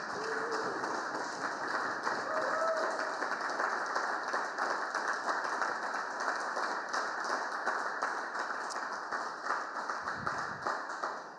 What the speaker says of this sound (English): let's have another round of applause for our contestants and our winners